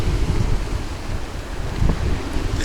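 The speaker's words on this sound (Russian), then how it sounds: "От ветра тут никак не убежишь." Strong wind blows off the sea on a gulf shore near Saint Petersburg, a loud, continuous roar that buffets the microphone in uneven gusts, with surf faintly beneath and no voices.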